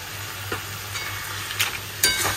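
Lentil dumplings (bori) frying in a pan: a steady soft sizzle with a few light clicks and scrapes as they are moved about, growing a little louder toward the end.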